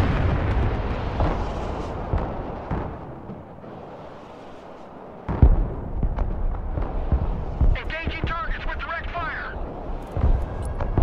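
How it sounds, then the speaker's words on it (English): Bombs in the video game Broken Arrow striking a forest on a bombing run, with heavy booming impacts and rumbling blasts, the loudest in the middle. Someone talks throughout. "No, it's a bombing run."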